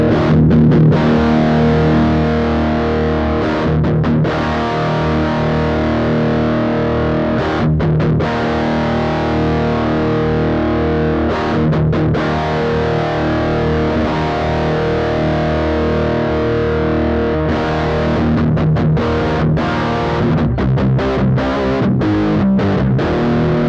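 Electric guitar played through a Master Effects Super Forty pedal, an amp-in-a-pedal, with its bass boost engaged: loud, thick distorted chords ring on steadily for over twenty seconds, broken by a few brief gaps between strums.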